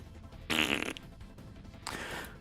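A person's voice mimics fart sounds, giving two short, blubbery bursts that are loud and close, separated by a brief pause.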